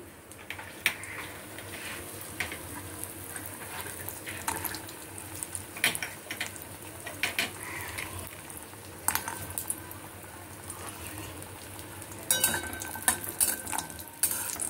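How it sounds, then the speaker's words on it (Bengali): Bori lentil dumplings frying in a pan over low heat, with a steady bubbling sizzle and intermittent clinks and scrapes of a utensil against the pan, close and moderately quiet throughout. "কয়েকটা বড়ি নিয়েছি, সেই বড়ি কটা আগে ভেজে নেব।"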